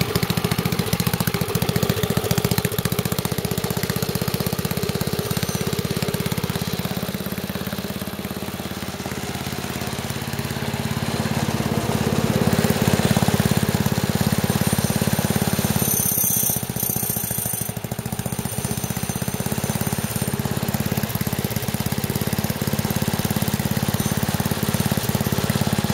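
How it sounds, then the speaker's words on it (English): A beefy wood chipper engine runs steadily for the whole stretch, a loud, continuous mechanical drone with a slight dip in level midway before building back up. "This thing is a beefy engine"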